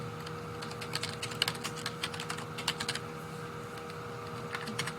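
Fingers tapping out a search on a computer keyboard in short irregular bursts of close, crisp key clicks over a quiet room hum.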